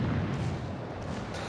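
Warship guns firing in World of Warships: Legends, with the Agincourt battleship on the scene, a heavy low rumbling boom that swells at the start and decays into a sustained roar.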